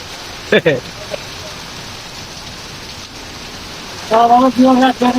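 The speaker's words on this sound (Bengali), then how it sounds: "লাস্ট দশ মিনিট বৃষ্টিতে আটকে" Steady rain falls at night in Rajshahi, a constant hissing wash of drops, briefly broken by short bursts of nearby voices talking.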